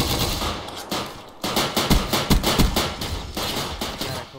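Machine gun fire in the Call of Duty World War II mod on PC: rapid, loud bursts of automatic gunfire with short gaps between volleys, close and dominant.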